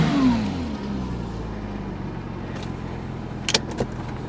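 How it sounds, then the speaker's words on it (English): A car engine with its check-engine light on revs briefly and then falls back to a low, steady idle rumble, followed by a few faint clicks. "All right, let's give her a little rev. Listen to that."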